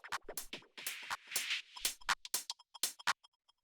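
Dry, unprocessed percussion bus for an organic micro house groove, a busy run of short clicky hits and shakers in an uneven, syncopated pattern, close and fairly quiet with no voice.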